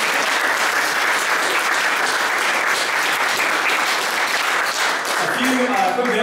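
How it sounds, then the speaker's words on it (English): Audience applause for a startup marketing panel at a lunch-and-learn event, steady, fairly loud clapping from a room of people that continues throughout, with a voice beginning to speak near the end. "Round of applause for today's panel."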